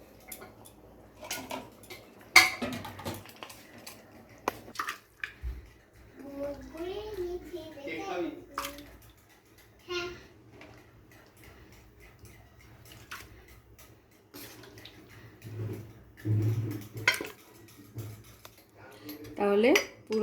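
Mutton being moved from a pan into a pressure cooker, with scattered metal clinks and scrapes of a spoon against cookware, fairly quiet, while voices, including a child's, talk in between.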